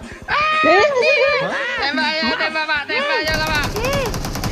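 Gunfire in the mobile battle game PUBG Mobile, as a fast rattling burst of shots near the end, following loud excited voices talking over the game.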